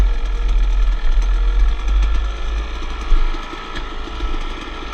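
Dirt bike engines idle close by: a 2010 Yamaha YZ250 and a 2002 Kawasaki KX250 at a trail ride. The deep, loud burble is steady, with small pulsing fluctuations and no talk.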